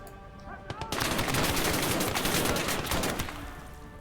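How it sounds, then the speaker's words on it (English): Sustained machine gun fire in the World War II strategy game Legion of the Damned, a dense rapid burst of loud shots that starts after a brief lead-in and runs continuously before easing slightly. "We've got a machine gun that's dogging us here."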